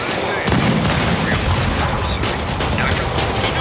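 Gunfire aimed at the player in Marvel's Spider-Man on PS4, a dense, continuous barrage of shots and booms that fills the soundscape, loud and unbroken, mixed with other game action.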